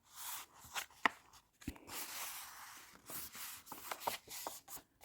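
Paper being folded up to a score line while making a gift box, with soft rustling and creasing crackles, a sharp crease snap near the start and another after a brief pause, close and quiet.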